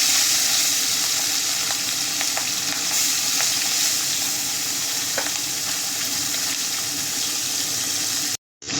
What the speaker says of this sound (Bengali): তেল গরম হয়ে গেছে, মাছগুলো আগে ভেজে নেব।